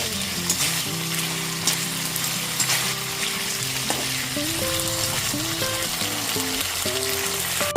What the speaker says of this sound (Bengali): টমেটো সসটা দিয়ে দেওয়ার পর খুব ভালো মতো মিশিয়ে নিচ্ছি।